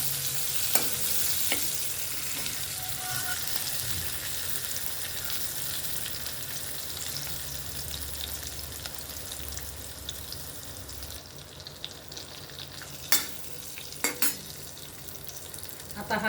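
A sizzling tempering of curry leaves, chilli pieces and fenugreek seeds in oil, a steady close hiss with occasional stirring scrapes and a few sharp spoon clicks near the end.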